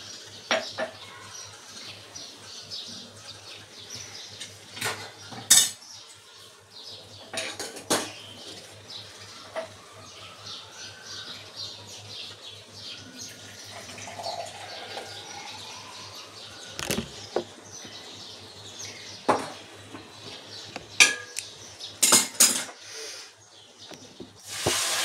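A metal spoon stirs rava sheera sweetened with jaggery in a pan on a lowered gas flame, giving quiet intermittent clinks and scrapes against the pan in a hushed kitchen.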